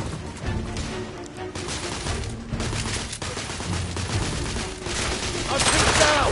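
A continuous barrage of gunfire in the video game The Order 1886, dense and steady throughout, with shouting voices mixed into the din of the firefight.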